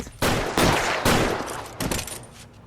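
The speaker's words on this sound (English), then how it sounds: "211 and shots fired" Rapid gunshots in the L.A. Noire game during a shootout on Broadway, with several sharp, loud cracks in quick succession, followed by a short burst after a brief pause.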